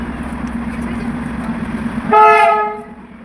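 A train horn sounds at Darjeeling station, a single loud, clear blast of about a second rising over the steady rumble and crowd murmur of the platform, then fading.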